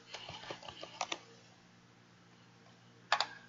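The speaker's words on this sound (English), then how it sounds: "Type in the UPC." Keys clatter on a computer keyboard as a UPC number is entered, with a few scattered light taps early on and a short burst of clicks near the end, faint and close.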